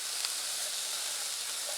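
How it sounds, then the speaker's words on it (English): Food frying in a pan for Nova Scotia style corn chowder, a close, steady hiss of sizzling fat that stays even and continuous from start to end, heard alone without voices. "I'm hoping you can hear me over this sizzle."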